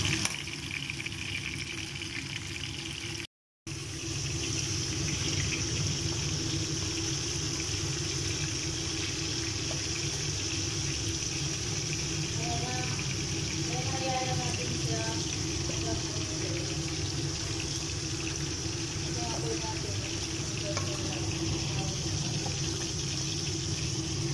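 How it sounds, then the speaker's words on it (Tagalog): Steady rushing water pours continuously into a cooking pot in the background while a voice talks intermittently over it, with a brief dropout near the start. "Nag-add na tayo ng tubig."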